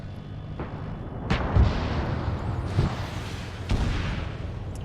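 Tank cannon fire in a modern military video game with a T-72 on the field, several heavy booming blasts spread out over a few seconds, loud against a rumbling background.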